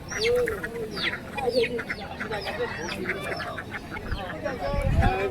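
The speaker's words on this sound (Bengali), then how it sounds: "গ্রাম সাইডের হাট তো এখানে অনেক হাঁস মুরগি আসে" Ducks and chickens at a village poultry market, with scattered quacks, clucks and crowing over busy crowd chatter, people talking throughout.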